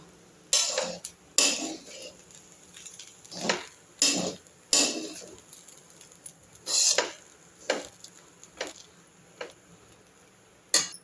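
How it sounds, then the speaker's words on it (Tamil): Capsicum rice being mixed thoroughly in a pan, a spoon scraping and clanking against the metal in a series of sharp, irregular strikes spread across the stretch, moderately close with quiet gaps between. "நல்லா ஒயிட் ரைஸ் தெரியாத அளவுக்கு நல்லா கலந்து விடணும்"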